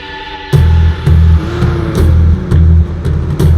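A car engine in a Hollywood action chase film revs in a series of about six loud bursts, each surge of throttle rising and easing off in a steady rhythm, close and forceful with no talk over it.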